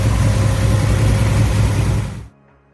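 A 1972 Plymouth Duster 340 with a 5.6-liter V8 rumbles loud and close, a deep, steady throbbing idle that holds for about two seconds and then cuts off abruptly to near silence.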